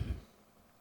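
A single short, low throat-clearing grunt from a man, close and fairly soft, fading quickly into quiet room tone.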